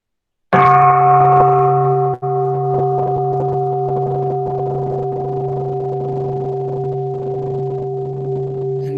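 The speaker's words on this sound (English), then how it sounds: "And listen to the sound of the bell." A single meditation bell is struck once and rings on with a long, steady, shimmering sustain that slowly fades, with no talk over it, setting the tone for mindfulness practice.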